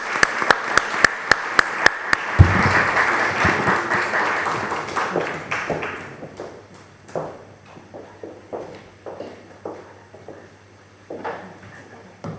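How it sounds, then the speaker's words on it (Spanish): Guests at the presentation of a map of women writers of Castilla y León applaud two writers, a burst of close clapping after a few sharp single claps, fading into scattered footsteps, chair and table knocks as the room settles. "Por favor, un aplauso para ellas."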